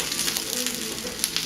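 Eggs fry in a hot, oiled pan on medium-high heat, giving a steady, close, crackling sizzle with small pops throughout.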